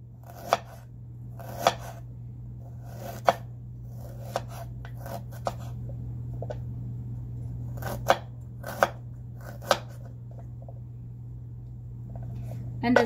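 Knife chopping food on a board in irregular bursts of sharp, close strokes, with a person talking throughout.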